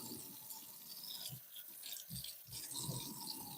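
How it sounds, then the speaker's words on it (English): Running tap water splashing over a paint brush being rinsed in a sink, a steady close hiss of flowing water with brief sputters and bursts as the bristles are worked under the stream. "Rinse it out."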